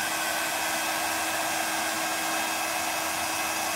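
A heat tool blows steadily and loudly for several seconds, drying sprayed grey board card at a craft table; the whir stays constant with no talking.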